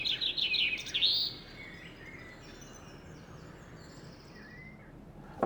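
A bird gives a quick bright chirping burst outdoors near feeders, then quiet open-air ambience with faint distant calls.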